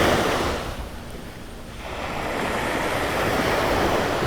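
Ocean surf rolls onto Vanderbilt Beach, a dune-less Florida shore one year after Hurricane Ian, with a steady broadband wash that dips and swells again, mixed with wind noise.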